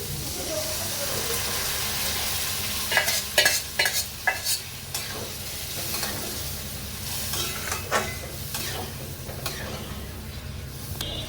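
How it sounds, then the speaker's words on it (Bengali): Spices sauté in a pan and lentils (dal) are then added, giving a soft, continuous sizzle broken by several sharp scraping and clattering stirs of a utensil against the pan. "এবার এই মশলাটা আমি একটু কষিয়ে নেব। এটা কিন্তু লেগে যাচ্ছে, আমার এটা ভাজা হয়ে গেছে। এবার দিয়ে দিচ্ছি ডালটা।"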